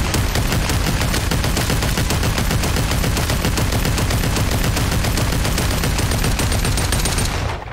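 An M60 machine gun in the VR shooter Population: One fires a long continuous automatic stream, loud and close, dozens of rapid shots at a steady rhythm without pause, cutting off at the very end with no voices.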